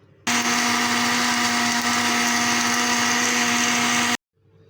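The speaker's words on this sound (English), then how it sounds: "And now I will blend them together." A kitchen blender whirs steadily for about four seconds at full speed, blending falsa berries, plums, sugar and water into a drink, with a sharp start and abrupt stop.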